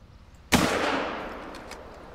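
A single loud rifle gunshot in the hunting video game theHunter: Call of the Wild cracks out suddenly after quiet, then rolls off into a long fading outdoor echo.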